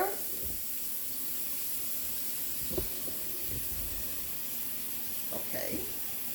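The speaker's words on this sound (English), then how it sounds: "So that's what I'm doing, filling up that sink." Water runs steadily into a sink, a continuous hiss filling it with cold water, salt and vinegar for washing collard greens, with a few faint clinks and movements over the flow.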